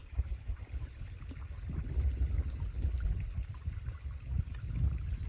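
Stream water at Cypress Canyon flows with a low, steady gurgling rush close by, uneven and murmuring, with no voices.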